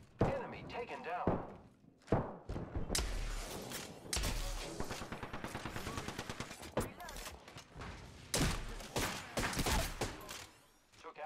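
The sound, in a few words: gunfire in a video game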